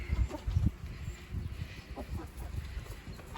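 Sussex, Rhode Island mix and Cornish cross chickens give low clucks and soft murmurs in a backyard coop, a few louder bursts early on, nearby and with no talk.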